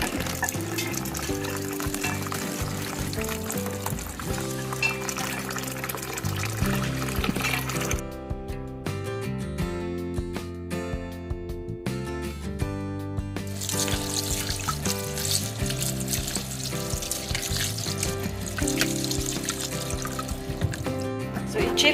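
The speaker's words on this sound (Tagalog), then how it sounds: "Ito siyang hugasan og ng tubig." Tap water runs steadily over drained noodles being rinsed for chilled Chinese noodles, a continuous close splashing wash that holds at an even level throughout.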